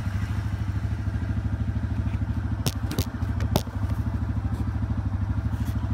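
Yamaha TW200 dual sport motorcycle engine pulls hard and steady during a wheelie, a loud close rhythmic single-cylinder thump with a few sharp clatters and scrapes midway.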